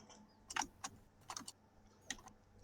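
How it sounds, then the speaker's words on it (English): Someone types on a computer keyboard during an online call, sending scattered bursts of clicky keystrokes with pauses between them, close and clear against a quiet background. "Who's typing?"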